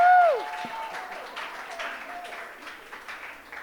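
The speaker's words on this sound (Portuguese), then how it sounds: "Salva de palmas para ele também." Audience applause for a speaker at a Brazilian data-protection webinar, moderate clapping that starts over a brief whoop and a tonal blip, then thins out and fades.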